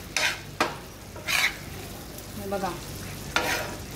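Prawns from a fresh creek catch frying on a tawa, with a spatula stirring and scraping in short bursts over a soft sizzle. A voice speaks one brief word.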